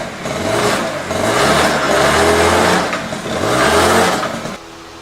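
A Honda Spree scooter engine, just after a carburetor clean, starts and revs in three rising surges before cutting out, loud and close with no talking.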